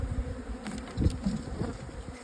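Honey bees drone steadily at an opened hive with drone cells on the comb, a close, continuous buzzing hum that swells and fades slightly as individual bees pass near, with no talk.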